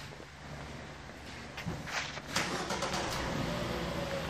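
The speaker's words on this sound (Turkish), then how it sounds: "Araç çalışsın üstad." A Renault Megane 4 engine starts, rising to a louder burst partway through and then settling into a steady running hum, heard close by with no speech.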